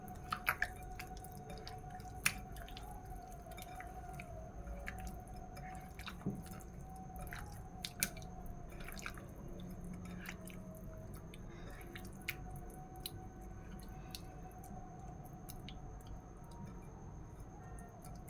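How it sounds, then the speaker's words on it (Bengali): Pieces of rohu fish being worked by hand with spices, giving soft wet squishes and scattered sharp clicks over a quiet background, with no talking. "মশলার সাথে মাছগুলোকে ভালো করে একটু মাখিয়ে নিই।"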